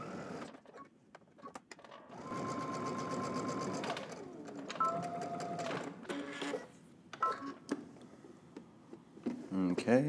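Sewing machine stitching two rows on a pair of jeans, with several close bursts of rapid mechanical stitching separated by short pauses, and a voice talking in between.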